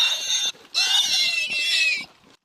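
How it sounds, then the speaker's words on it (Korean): Pigs on a Danish pig farm oink and squeal loudly and close by in two long, shrill bursts separated by a brief gap, with lower grunts between them. "쉴 새 없이 꿀꿀대는 돼지들"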